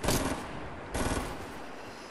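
Two brief bursts of rapid gunfire crackle in the Fortnite video game, each a dense rattling volley that fades quickly, moderately loud with no talk.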